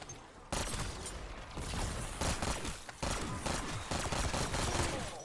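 Fully automatic weapon fire in Black Ops 6 Zombies, dense rapid shots in continuous loud bursts with brief breaks, close and alone with no talking.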